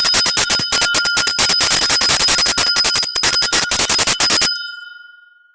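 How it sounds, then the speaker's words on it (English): A small bell is rung loudly and rapidly for about four seconds, a fast continuous jangle, then left to ring out in a fading tone. "I like to ring this bell"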